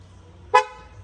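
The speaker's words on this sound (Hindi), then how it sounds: "इसका मैं हॉर्न बजा सकता हूँ कहीं से भी" An electric G-Wagon's horn, triggered remotely from a phone, gives one short loud toot against quiet background hum, with no voices during the beep.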